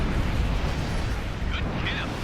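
A missile launched from a fighter jet in Ace Combat Infinity, heard as a low, rumbling blast and roar under constant engine noise, with a few short electronic tones near the end.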